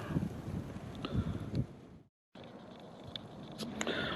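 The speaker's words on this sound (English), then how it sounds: "I've come to the other side of the hill and the wind's coming straight at me" Wind buffets the microphone on an exposed hillside of farmland, a steady low rumbling roar with faint rustle that cuts out briefly mid-way, then resumes.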